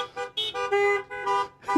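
Car horns honk outside a church on a July 4th weekend, a series of short repeated toots with brief gaps, moderately loud and somewhat distant.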